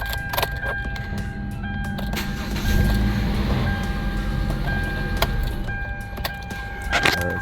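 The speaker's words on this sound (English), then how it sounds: "I'm going to switch the ignition on" Keys jangle in a 2012 Kia Soul as the ignition is switched on, followed by a steady electrical hum and a few high chime-like tones, close and without talk.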